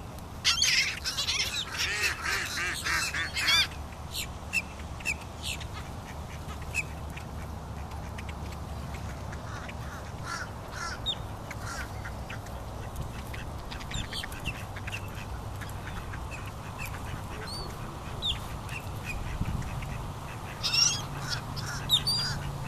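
Geese and ducks being fed in a park squawk, quack and honk steadily over a low ambient background, with denser bursts of calls near the start and the end.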